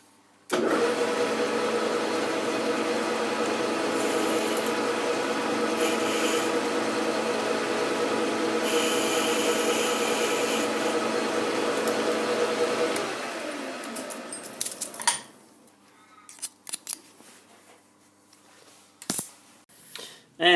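A ragged edge is ground off a steel lathe tailstock chuck-mount part. The grinding is loud and steady for about thirteen seconds, then stops, leaving a few scattered clanks and knocks.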